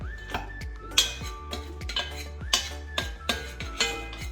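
Utensil scraping and clinking in a pan while panko breadcrumbs are stirred into cheese for shrimp mac and cheese, a rhythmic series of sharp metallic clinks and taps, close and fairly quiet.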